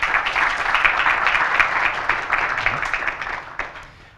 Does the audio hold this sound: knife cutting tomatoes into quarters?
no